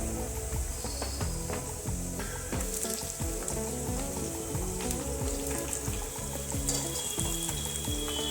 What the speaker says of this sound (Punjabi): ਬੈਂਗਣ ਵੀ ਨਾਲ ਹੀ ਇਹਦੇ ਫਰਾਈ ਕਰ ਲਵਾਂਗੇ